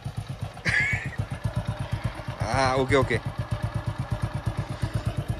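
A motorcycle engine idles close by with a steady rapid chugging pulse, while a person briefly speaks over it.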